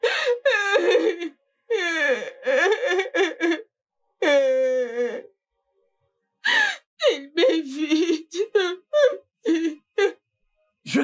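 A woman cries and wails in a Nigerian drama, with long moaning, sobbing bursts and gasps broken by short pauses, loud and close, with no other sounds.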